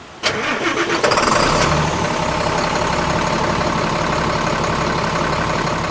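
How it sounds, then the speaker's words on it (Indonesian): Hino RN bus engine heard from outside as it cranks and catches, then settles into a steady, smooth diesel idle that stays loud and even for several seconds. "Nah, kita nyalakan mesinnya."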